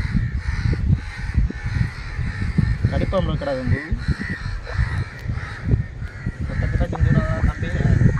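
Crow tangled in a fishing net, cawing repeatedly and harshly at close range while people talk loudly over it.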